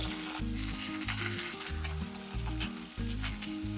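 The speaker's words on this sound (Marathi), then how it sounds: "तेलामध्ये पाणी पडल्यावर खूप उडलं गेलं सगळीकडे" Wet, freshly washed cauliflower florets hit hot tempering oil with a loud, spattering sizzle that continues through the clip, with crackling bursts over music playing underneath.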